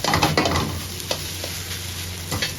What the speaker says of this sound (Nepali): मजाले हाई टेम्परेचरमा चलाउँदै पकाउने गर्नु होला।